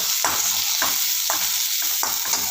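Onions and green chillies sautéing in a hot pan, a steady sizzle broken by about five scraping stirs of a spoon at a regular pace, close up with no talking.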